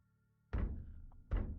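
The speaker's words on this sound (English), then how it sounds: "3 carefully spaced out taps." Soft knocks land on an apartment door at night, two distinct dull thunks about a second apart, close by in an otherwise quiet room.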